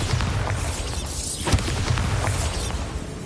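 A Bombarda blasting spell goes off in Hogwarts Legacy, a dense booming burst of explosions and debris with a low thump that rumbles on.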